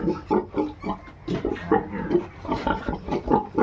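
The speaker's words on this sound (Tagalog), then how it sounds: "Yan siya ang barako." A boar of over 80 kilos in a backyard farm pen grunts repeatedly and loudly up close, a steady run of deep, rough snorting oinks with barely any pause.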